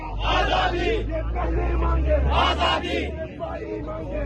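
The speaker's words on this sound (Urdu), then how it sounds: "وہاں سے بھی نعرے لگائے جا رہے ہیں، اندر سے بھی آوازیں آ رہی ہیں" A crowd chanting slogans outside Adiala jail near a prisoner van, with rhythmic shouted voices rising and falling in bursts over low rumbling background noise, loud and close.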